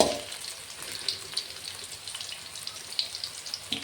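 Bitter gourd fries in oil in a pan, a soft continuous sizzle with scattered small pops and crackles, close and moderately quiet, with no talking.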